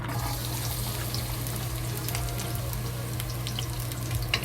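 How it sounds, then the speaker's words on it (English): Chopped garlic sizzling steadily in hot oil in a wok for shrimp and celery, a constant crackling hiss with fine pops running throughout, fairly loud and with no voices. "Slowly fry until the garlic releases good smell, but don't burn the garlic."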